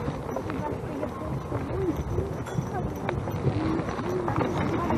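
Horse hooves clip-clop in a steady rhythm as the horse pulls a sleigh on a ride, with people talking over the hoofbeats throughout.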